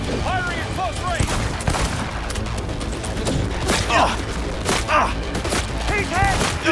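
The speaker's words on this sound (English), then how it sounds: "Firing at close range!" Rapid bursts of gunfire ring out during close-range combat in the video game Cyberpunk 2077, loud sharp shots repeating in quick volleys with impacts between them, while a voice talks over the action.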